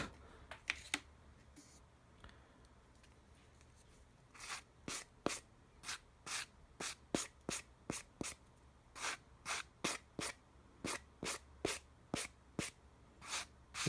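Leather edge coat paint is applied in a quiet room: after a few faint taps comes a regular series of short, crisp dabbing or rubbing strokes, close and distinct.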